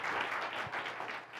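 A church congregation claps steadily, a dense, continuous wash of many hands at even loudness, with no pauses and no voices standing out.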